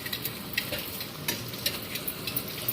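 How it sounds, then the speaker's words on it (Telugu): Spicy Andhra-style egg and brinjal curry with drumsticks being stirred in a hot pan, a steady sizzle and frying hiss broken by irregular scraping strokes of the spoon, close and fairly loud with no voices. "బాగా కలుపుకోవాలంట"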